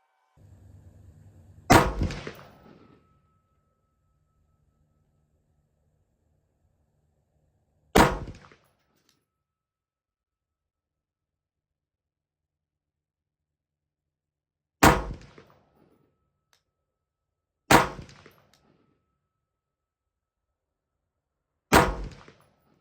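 Five sharp, loud rifle shots from a Rock River AR-15 firing .223 ammunition at a range, spaced several seconds apart in silence, each with a short echoing tail.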